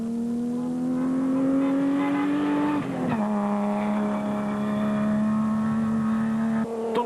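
A Ryobi Nissan race car roars past during a circuit race, its engine holding a steady high-pitched drone, briefly dipping as it shifts, then pulling on at full throttle, loud and close with no talk.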